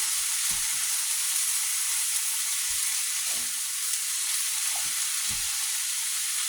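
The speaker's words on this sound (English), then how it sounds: "We're going to stir that." Vegetables and shrimp being stirred together in a hot pan for chicken and shrimp chow mein, a loud constant frying hiss with a few soft knocks and scrapes of the spatula underneath.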